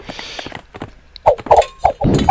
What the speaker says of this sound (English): I see that he's got a lot more horses coming in.